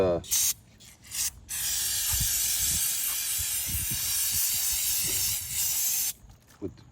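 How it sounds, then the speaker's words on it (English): Parts cleaner sprayed onto oil change parts from a 2023 Volvo XC90, long hissing aerosol bursts: a few short blasts, then one sustained spray lasting several seconds, close and loud, with light handling noises between. "parts cleaner, just in case there's any particles or anything like that left inside"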